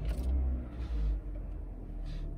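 A car engine runs close by with a soft, low idle rumble, briefly swelling twice as it settles, with faint hiss above it and no talk.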